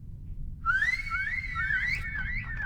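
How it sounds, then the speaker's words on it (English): A character in the video game Reverse 1999 whistles a single sustained, wavering melodic whistle over a steady low ambient rumble, fairly close and alone with no talking. "Jiu Niangzi turns around and whistles"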